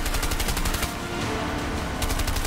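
Rapid automatic gunfire from the video game A Way Out rattles continuously at close range, with dense overlapping bursts that briefly thin out midway before returning loud.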